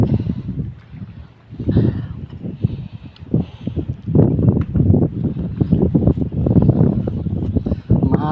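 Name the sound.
wind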